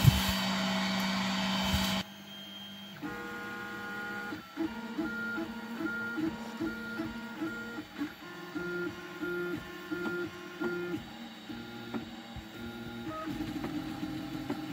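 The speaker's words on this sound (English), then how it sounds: "So this just finished printing" A 3D printer at work: a short loud burst, then steady whirring stepper-motor tones that shift pitch in rhythmic patterns, running continuously and close by.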